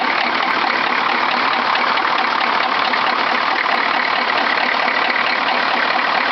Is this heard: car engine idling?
yes